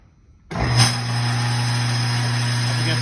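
A table saw switches on after silence, its motor spinning up quickly into a steady, loud, high-pitched whine and hum that holds evenly to the end.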